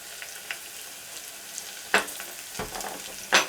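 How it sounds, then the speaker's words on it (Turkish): Peas, onion and red pepper flakes sautéing in a pan give a soft, quiet sizzle, broken by a few sharp scraping stirs near the end. "Ve içerisine pul biberini koyuyorum."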